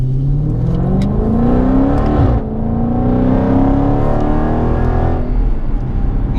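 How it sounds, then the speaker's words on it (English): A Dodge Scat Pack with a muffler delete and retained resonator revs loudly up close, its exhaust rising in pitch, dropping sharply midway, then climbing again in a sustained deep roar. "I got the muffler delete, no resonator delete"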